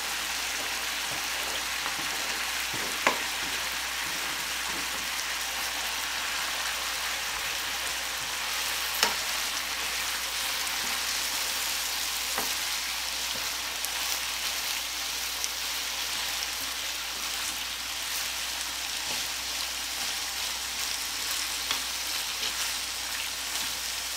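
Onion and hamburger meat frying in a pot for a creamy potato and hamburger soup, a steady soft rain-like sizzle throughout with a few faint clicks of stirring, no voices.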